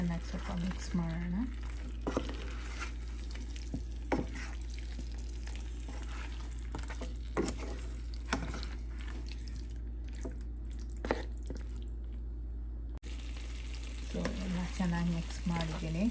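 Marinated chicken drumsticks for capsicum chicken are stirred in a pan, giving a low, steady sizzle with scattered scraping clicks and taps from the spoon over a constant background hum, with no talking.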